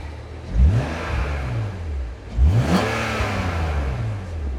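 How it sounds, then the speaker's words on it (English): A straight-six car engine at an auction yard revved twice in quick succession, each rev rising sharply and falling back to a rough idle, close and loud with no talk. "Alright, I'll give it a bit of a rev, Morgan."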